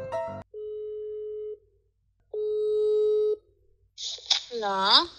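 A telephone call rings out in long steady tones with silent gaps between them, then a voice answers at close range.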